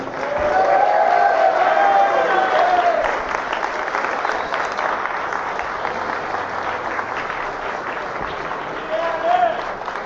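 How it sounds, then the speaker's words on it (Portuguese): Studio audience gives sustained applause and cheering for women, a dense, loud wash of clapping that stays steady through the clip before easing slightly, with a voice speaking over it. "uma salva de palmas para as mulheres"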